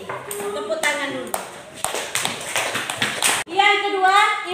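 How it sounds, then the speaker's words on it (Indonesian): A classroom of young pupils claps together in a short burst of sharp, rhythmic hand claps, mixed with lively children's voices chanting and talking before and after. "Tepuk tangan dulu."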